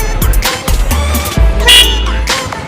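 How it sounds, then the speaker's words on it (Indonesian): A Yamaha Bison motorcycle fitted with modified Mercedes W230 car horns sounds several loud honks, short blasts followed by a longer sustained toot, close and prominent over background noise. "Klakson nih."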